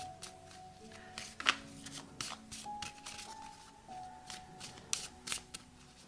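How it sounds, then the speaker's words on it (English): Oracle cards shuffled by hand during a tarot-style reading, a run of soft papery riffles and taps with a few sharper flicks, close and fairly quiet, with no talking over them. "Let's pull an oracle card."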